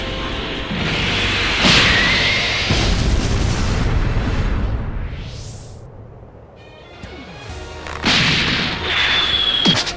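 A Holy Light Grenade goes off in a cartoon fight, a loud booming blast with a rushing whoosh and ringing tones, then a quieter stretch before a second burst of noise.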